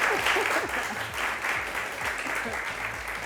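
An audience at a live talk show applauds warmly with a steady patter of many hands clapping. The applause rises and falls slightly across a few seconds, with faint voices underneath.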